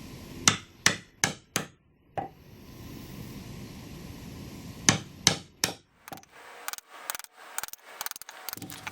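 Sharp mallet blows on a chisel cutting out wood for a roadside memorial cross, close and loud in irregular bursts, with quieter scraping and rustling of wood chips between strikes.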